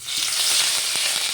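Curry leaves hit hot oil with a loud, dense sizzle and spitting crackle, close and continuous throughout the brief moment.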